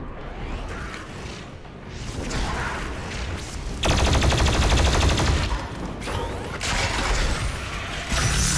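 A weapon in Doom Eternal fired continuously while the trigger is held, a dense sustained mechanical roar of rapid shots that grows louder and steadier in the second half, with brief breaks and whooshing game effects.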